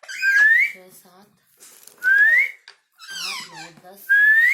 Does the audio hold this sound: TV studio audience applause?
no